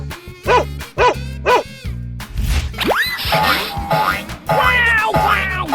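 A dog in a 3D animal slide video game barks three quick, loud times, followed by bouncy cartoon boing effects and playful game sounds, with no talking.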